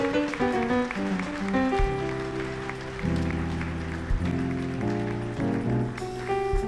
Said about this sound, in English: Go and give God a clap offering.